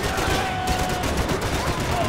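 Rapid, dense gunfire crackles continuously in a loud burst, like automatic weapons firing in the video game Max Payne 3.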